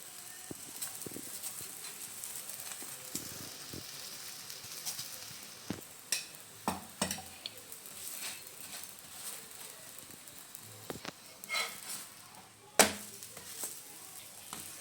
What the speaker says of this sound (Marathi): बघा, दोन्ही साईडनं असं चांगलं शेकून घेऊ आपण।